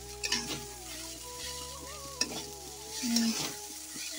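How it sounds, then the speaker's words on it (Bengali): Potatoes sizzle softly in a frying pan with a steady hiss, broken by a few close scrapes and taps of a spatula stirring them, with a faint hum in the background. "সকালের জন্য একটু আলু ভাজা করছে"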